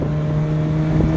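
A Ferrari 458 or 360 engine running steadily in race mode, second gear, a sustained mid-pitched hum with a slight rise near the end, close and constant.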